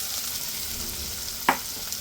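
Ground peanuts being stirred into a mixture frying in a pan for a chutney made with green chickpeas give a steady soft sizzle, and a single sharp scrape of the spoon sounds once partway through.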